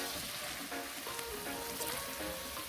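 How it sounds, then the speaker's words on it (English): Steady, loud sizzling of food frying in a hot pan, a continuous crackling hiss with no talking. "Oh, listen to that sizzle."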